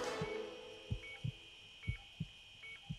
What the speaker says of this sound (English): I can hear his heart beating.